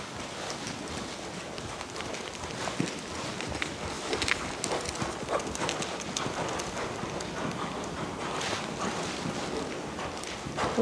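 A horse cantering on a lunge line during a schooling lesson, rhythmic hoofbeats on soft ground mixed into steady rustling and wind noise at moderate distance.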